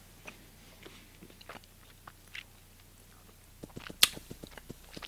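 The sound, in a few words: chewing food that is hard to eat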